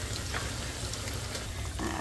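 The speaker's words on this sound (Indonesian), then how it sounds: "Lanjut, ganti Mbak Sus sekarang yang goreng, teman-teman." Food frying in a pan while soto ayam is cooked, with a steady dense sizzle that runs unbroken and fairly faint through the short stretch.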